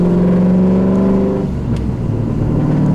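A Trans Am V8 engine revs loud and steady, holding a low drone that drops in pitch partway through as the gear engages during a rev-matched downshift, with the car driving on.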